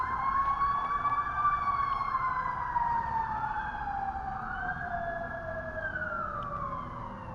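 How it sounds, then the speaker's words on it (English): Fire truck sirens wailing outside, a loud sustained rising-and-falling tone that sweeps slowly downward as the trucks pass, with a low road rumble underneath and no talking. "Lots of fire trucks, lots of sirens."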